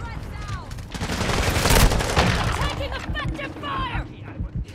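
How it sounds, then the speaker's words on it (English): Pistol gunfire in an online shooter game, several sharp shots among bursts of other gunfire and impacts, with a player talking excitedly over the action. "Long shot with the pistol, mate."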